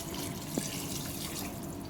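Water is poured into a cooking pot with oil while making pesarapappu charu, a moong dal soup, giving a steady, close splashing wash with one brief bright tone near the start.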